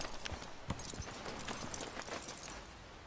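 Horse hooves clip-clopping at a steady gait in the video game Red Dead Redemption 2, a run of soft, evenly spaced thuds over low background ambience, fairly quiet.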